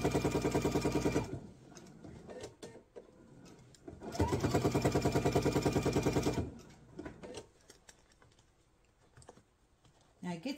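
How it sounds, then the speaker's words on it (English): A sewing machine stitches apron fabric in two steady, fast bursts of close mechanical whirring, separated and followed by quieter pauses with faint handling and a voice talking. "then I'll sew until I come down to where my 7-inch mark was"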